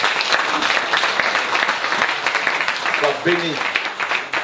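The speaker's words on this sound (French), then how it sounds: "On peut acclamer le Seigneur pour cette guérison" A church congregation in Taravao, French Polynesia, claps and cheers for the Lord after a healing, sustained applause with a voice speaking briefly over it near the end.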